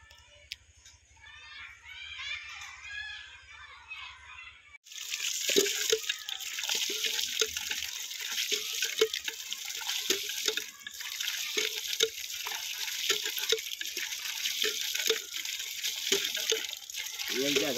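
Water gushes steadily from a newly installed tap in a new house, a loud continuous splashing flow that starts abruptly after quieter moments, with a voice talking over it.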